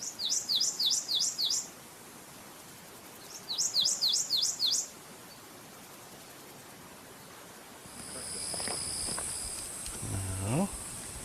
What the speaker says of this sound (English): we're gonna play the song of the male prothonotary warbler